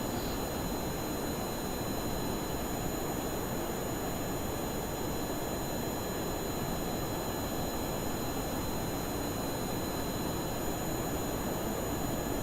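Juno jet engines on an aircraft in Kerbal Space Program roar as a steady, unbroken, loud broadband drone with a faint high whine, running alone throughout without any talk.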